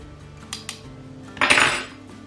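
A spoon scrapes and clinks against a bowl while mixing baking ingredients for cookie dough, giving a few sharp taps and then one louder scraping clatter, close and without talk.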